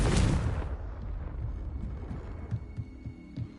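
A Confringo spell explosion in the Hogwarts Legacy video game. A loud, deep blast bursts at the start and rumbles away over a second, followed by faint low thuds and clatter.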